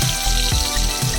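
Garlic drops into hot oil for tempering a vankaya (eggplant) chutney, with dried red chillies and mustard seeds, giving a short close sizzle with bubbling spurts.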